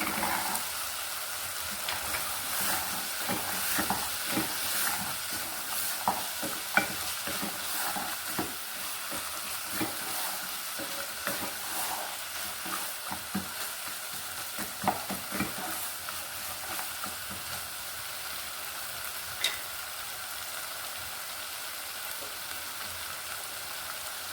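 Tomatoes and green peas sautéed and stirred in a pan for paneer butter masala, giving a steady close sizzle with scattered clicks and scrapes of the spoon throughout, no talking.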